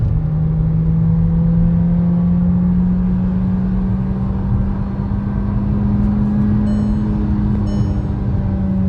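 A 2026 Skoda Kushaq pulls hard in third gear under manual mode, its engine note rising steadily and loud over nine seconds as speed builds, with no talk over it.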